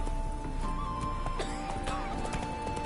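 Hooves of Geralt's horse Roach in The Witcher 3, a steady clip-clop rhythm with a whinny and game ambience underneath, with a brief voice in the mix.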